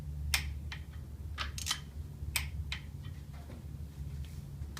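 A torque wrench tightens bolts to a final 55 foot-pounds on a GMC 305 V6 engine rebuild, with a series of sharp, close ratcheting clicks and ticks coming in irregular bursts over a low, steady background hum.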